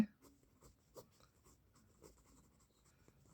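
Pen or marker strokes scratch across paper or board while a maths problem about the volume of leftover wood is worked out, faint irregular taps and scrapes at close range with no talk.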